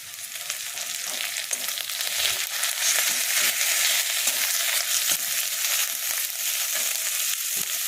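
Onion with ginger-garlic paste and chopped green chilli frying in a pan, a continuous even sizzle with soft rhythmic stirring scrapes, close and fairly loud.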